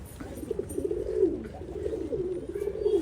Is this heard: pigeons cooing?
yes